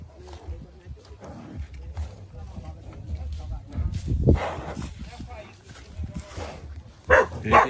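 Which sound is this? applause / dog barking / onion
dog barking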